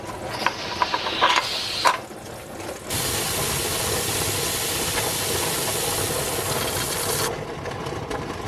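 Pressure canner steadily hissing steam while canning tomatillo salsa, preceded by a few clinks and rattles, then a loud continuous close hiss holding for several seconds before dropping away.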